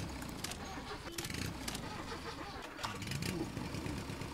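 An old car in the game Jalopy cranks and starts, a low engine chug settling into a rough idle, faint and muffled with light chatter over it.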